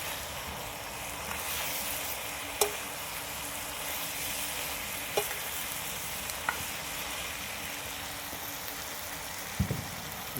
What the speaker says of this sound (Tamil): இதை 12 வரமிளகாயை இந்த ஸ்டேஜில் சேர்த்திக்கலாம். இதை நல்லா வதக்கி விட்டுடலாம்.